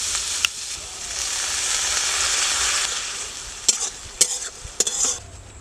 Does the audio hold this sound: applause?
no